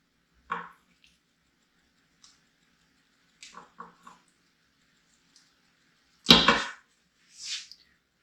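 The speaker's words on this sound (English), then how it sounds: "I'm going to go ahead and stir this up again" A spoon stirs cauliflower rice through a dairy-free beef stroganoff with mushrooms and onions: a few faint clicks and taps, then two louder, close, wet scraping swishes near the end, with no talk.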